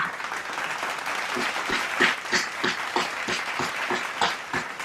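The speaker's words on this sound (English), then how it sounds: "A round of applause" A small group claps steadily in a football watch-along live stream for Brazil versus Norway at the 2026 World Cup, producing a moderate, continuous patter of hand claps at close range without speech.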